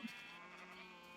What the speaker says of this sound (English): Just before I went into the base, I sheared all the sheep.